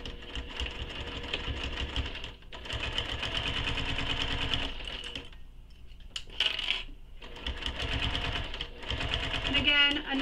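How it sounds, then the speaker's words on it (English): A sewing machine runs in bursts while stitching around the seam of a fabric sling pack, its close motor hum broken by short pauses and small clinks, with a voice speaking over parts of it. "now we're going to stitch all the way around using the seam allowance given in the pattern"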